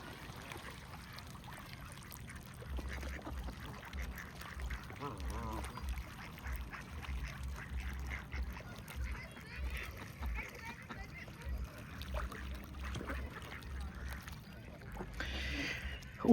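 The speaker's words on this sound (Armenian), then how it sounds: "Բադերը, սագերը, սա խառնվել են իրար։" Ducks and geese gather on a lake in a park, with scattered quacks and honks over a low, steady outdoor background while people talk nearby.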